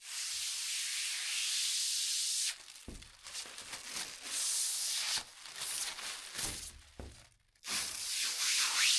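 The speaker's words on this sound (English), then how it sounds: "I'm a little nervous taking off the protective coating." Protective film peeled off an insulated polycarbonate greenhouse panel, a near, steady hissing rip that stops and restarts in uneven pulls and short pauses.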